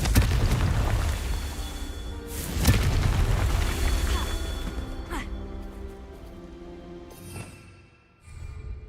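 Booming blasts from the Confringo fire spell in Hogwarts Legacy, with a deep rumbling explosion followed by several sharper cracking impacts over a sustained low roar.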